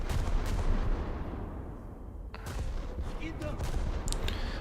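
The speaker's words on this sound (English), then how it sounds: "I'll single fire the salvos," Battleship main guns firing a salvo from a single turret in a naval video game, heavy rumbling booms rolling through, with a sharp crack about midway and further bursts near the end.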